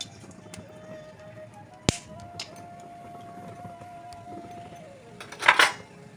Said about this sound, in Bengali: আবার তেল দেব লবঙ্গ এলাচ আর দারচিনি তেলের উপর দিলাম